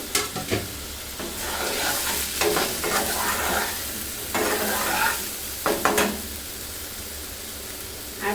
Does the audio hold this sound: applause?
no